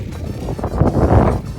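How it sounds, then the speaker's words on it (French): Strong wind on an island gusts and buffets across the microphone in rough low rumbles, loud and close for a brief moment. "Il y a beaucoup de vent"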